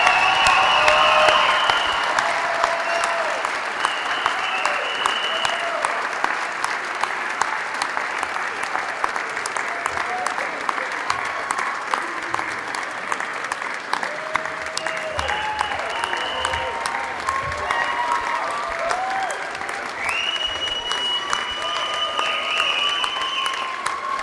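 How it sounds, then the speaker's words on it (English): Sustained, dense applause from a graduation ceremony audience honoring the Dakota College at Bottineau class of 2022, steady and loud throughout with a faint voice or two over it. "Let's give them one more big round of applause."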